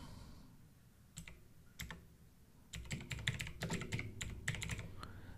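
Keys clatter on a computer keyboard as a Windows 11 registry editor search is typed, a few isolated taps followed by a denser burst of quick clicks, close and fairly quiet.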